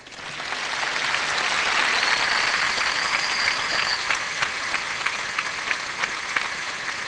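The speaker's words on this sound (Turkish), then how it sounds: "Büyük bir alkış lütfen" A crowd applauds at a stage event where a young girl is called up to recite the Turkish national anthem, giving a loud, sustained wash of clapping with sharper individual claps standing out near the end.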